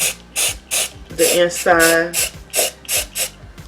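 Spray paint puffing from a can into a glass container, a series of short regular hissing bursts, close and loud, with a person speaking briefly in the middle.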